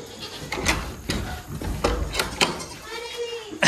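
Young goats bleat in a barn doorway, several short calls in quick succession mixed with shuffling and a voice talking to them nearby.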